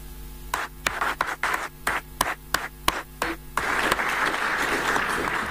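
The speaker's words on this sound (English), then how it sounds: "another round of applause for Carl" Audience applause at a public forum on mineral royalties, opening with separate sharp claps in an uneven rhythm that swell into a dense, steady wash of clapping from the room.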